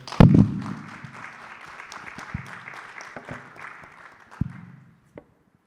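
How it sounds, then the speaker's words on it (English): An audience applauds panelists at the close of a conference panel discussion on AI in healthcare; after a sharp thump, the clapping runs as a soft, even wash that fades out, ending with one last knock. "Please join me in a round of applause for them."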